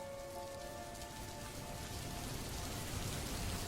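Steady rain falls in a cartoon rainy-day scene, a soft, even patter with a faint sustained tone in the background, quiet and continuous with no talking.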